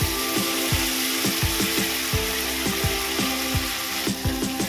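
Spices sizzle in a pan of ghugni, a steady frying hiss punctuated by repeated sharp scraping knocks of a utensil stirring at a brisk rhythm, close and loud with no voices.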